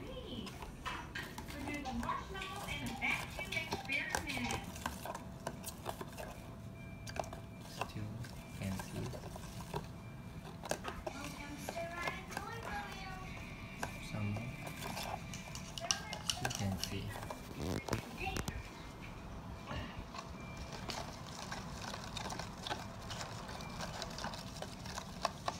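Slime is stirred and mixed in a bowl with a utensil, giving a long run of soft scraping, clinking and squelching, mostly under a voice talking throughout.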